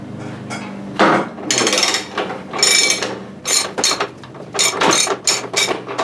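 A socket wrench working loose the fork cap nut on a Harley-Davidson motorcycle in a home garage, giving a series of sharp metallic clunks and ratcheting clicks at irregular intervals, close and fairly loud.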